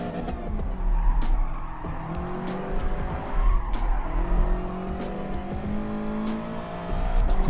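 Racing cars in a video game at the Nürburgring GP circuit, on cold tyres, sliding and skidding with loud sustained tyre squeal over droning, shifting engine notes, several cars close together.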